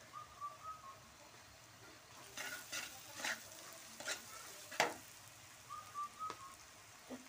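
Turmeric is stirred into onions frying in oil: a quiet, low sizzle broken by a series of scraping stirs spaced through the clip, with a few faint whistling tones.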